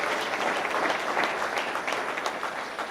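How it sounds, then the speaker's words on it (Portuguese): A church congregation claps for the young worship team, a continuous, full burst of applause from many hands that stays loud and even throughout, with no voice standing out. "Uma salva de palmas para esses meninos, para a equipe de louvor."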